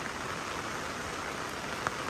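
Heavy storm rain pours down in a steady, dense hiss, with one brief sharper drop or tap near the end.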